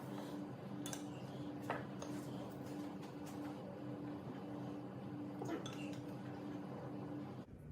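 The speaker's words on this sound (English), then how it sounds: "We might just even spoon it into the little bowls." Spoons clink lightly against small bowls as a baking mixture is spooned out, sparse bright taps scattered over a quiet room hum, faint and close, with no talking.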